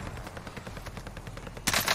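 Rapid gunfire from a three-line rifle in the Warzone video game crackles in a steady stream of close shots, ending in a louder burst.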